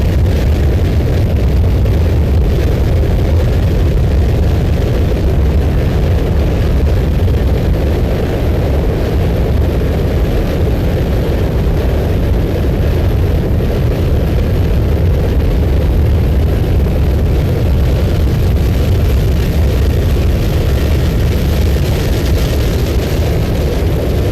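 Offshore racing powerboats with Sterling inboard engines produce a continuous loud, broad roar with a deep rumble, steady throughout with no talk.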